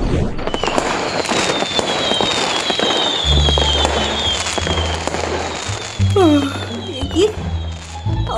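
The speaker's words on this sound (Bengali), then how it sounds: "এই বাইরে কি বাজি পোড়াচ্ছে মনে হচ্ছে।" Firecrackers crackle and burst outside a house in a Bengali cartoon, with sharp pops and rising whistles while voices talk over them.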